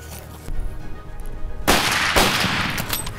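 Rifles fire during an African hunt: after a low rumble, two loud, close gunshots ring out about half a second apart and leave a long echoing tail outdoors.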